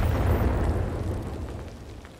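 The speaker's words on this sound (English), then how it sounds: "Firing on target" A single loud explosive boom from weapon fire striking a target in the BattleTech mech game, a rumbling impact that slowly fades over about two seconds.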